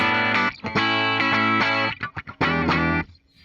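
Bright, twangy electric guitar, a 2022 Fender Japan Stratocaster HH on the bridge pickup, plays choppy chords with sharp attacks and brief gaps, finishing on a held chord that fades.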